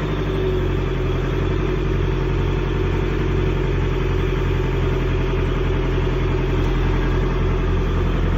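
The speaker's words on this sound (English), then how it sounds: "She idles really nicely. She's a good old engine." An old inboard boat engine idling below decks, a steady, loud, even low throb that runs without a break and with no voices.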